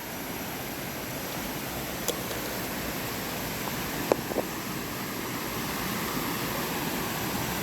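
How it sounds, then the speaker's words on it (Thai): Noppharat Thara waterfall in Khao Yai National Park pours in a steady, broad hiss of falling water, heard from a short distance with a couple of faint brief clicks and no voices. "เดี๋ยวผมจะพาลงไปชมน้ำตก ว่าสวยงาม ไหมครับน้ำตกนพรัตธารา"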